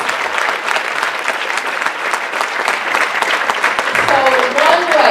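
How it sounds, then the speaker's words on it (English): Audience applause for DC government breaks out in a crowded room, dense clapping that holds steady, with a voice beginning to speak over it near the end. "Let's give them a big round of applause."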